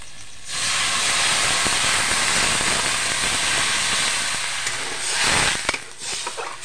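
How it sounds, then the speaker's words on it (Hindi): A sudden loud hiss of steam bursts up as a little water hits a hot pan of roasted spices, holding steadily for several seconds, then tapering off with a few clatters near the end. "अभी पानी डालते हैं थोड़ा सा"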